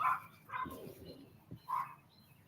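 Lola, a small dog, gives three sharp yapping barks spaced apart, fairly faint and slightly distant, with no talking over them.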